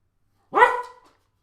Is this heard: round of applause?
no